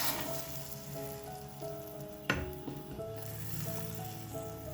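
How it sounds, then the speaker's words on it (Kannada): Hot oggarane tempering poured into boiling tomato juice, giving a steady close sizzle and crackle with one sharp splash-like burst partway through, then continued frying hiss. "ಈ ಟೈಮಲ್ಲಿ ನಾವು ಮಾಡ್ಕೊಂಡು ಬಂದಿರೋಂಥ ಒಗ್ಗರಣೆನ ಹಾಕೋಬೇಕು"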